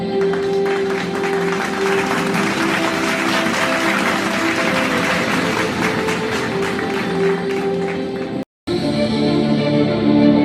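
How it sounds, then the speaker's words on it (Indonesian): Loud, lively crowd applause welcoming the host at a neighbourhood community event, with a steady tone or music running beneath; sustained clapping that cuts out briefly near the end and then resumes. "Mari kita sambut dengan tepuk tangan yang meriah."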